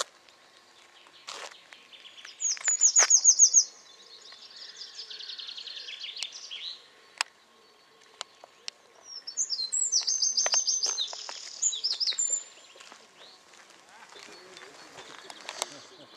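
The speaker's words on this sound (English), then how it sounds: "But now we've just got the sound of birds singing." Birdsong drifts over quiet French countryside near old trenches, with two clear bursts of bright, trilling chirps and scattered calls at moderate distance against a soft, still background.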